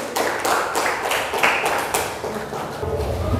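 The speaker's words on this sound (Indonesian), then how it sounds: "Beri tepuk tangan untuk kelompok" Classroom applause for a student group after their presentation, a steady patter of many hands clapping at moderate volume for a few seconds without a break.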